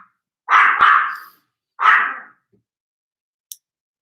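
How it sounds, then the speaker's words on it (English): A dog barks sharply twice, close and loud, with a pause between, followed by quiet and a faint click. "Stop, will not stop barking."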